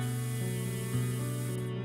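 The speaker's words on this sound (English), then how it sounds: "I'm just going to maybe try the spray paint" A spray paint can hisses steadily in Passpartout: The Starving Artist, a soft continuous spray over a humming game background, fairly quiet and unbroken.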